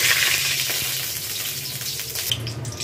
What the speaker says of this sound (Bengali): শুকনো লঙ্কাটা একটু ভাজব